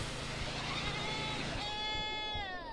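A goat bleats in the Airport Renovator video game, one drawn-out wavering call that rises near the end over a steady background hum.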